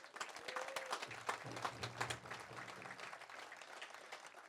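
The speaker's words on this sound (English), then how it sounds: "Let's give him a round of applause." Audience applause at a city and First Nation reconciliation council meeting, a faint continuous clapping with a low hum and a brief tonal sound in the middle, recorded at low level.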